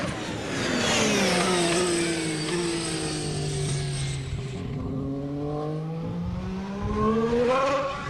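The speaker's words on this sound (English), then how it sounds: "Did you hear that sort of whirring sound on braking?" A 2014 Ferrari Formula 1 car passes during pre-season testing at Jerez, its engine whine sliding down in pitch under braking with a whirring energy-recovery tone, then rising again as it pulls away.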